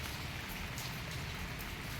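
Steady rain pours onto potted adenium plants outdoors in the rainy season, a dense, even hiss of drops spattering leaves and soil with no voices, filling the whole stretch at moderate loudness.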